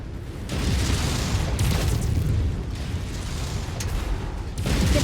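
Missile barrages launching and detonating in the mech combat game Mechwarrior 5, a dense, continuous rumble of booms and bursts with heavy low-end thunder swelling in waves, loud and close throughout.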